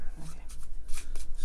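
Playing cards for the Mr. Jack board game being shuffled close by, a quick series of soft riffling bursts, with faint voices in the background.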